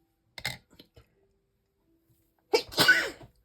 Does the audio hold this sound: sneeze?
yes